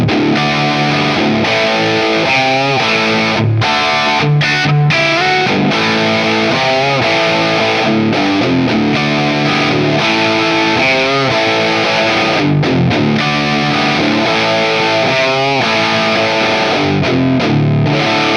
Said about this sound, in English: let's add a healthy dose of overdrive.